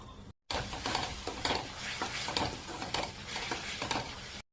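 Tomatoes with salt and spices sizzle steadily in a hot pan, a dense close crackle with scraping stir strokes and small pops throughout, after a brief silent gap at the start.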